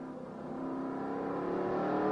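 A McLaren M8C Can-Am race car at Silverstone, its engine note building steadily as it accelerates and climbs through the gears, a sustained loud rising drone heard from on board, no voices.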